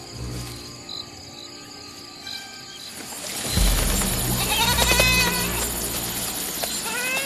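A lost goat bleats at night in the rocky undergrowth of Jawai, Rajasthan, its plaintive cries rising over a constant chorus of crickets and insects that grows louder midway.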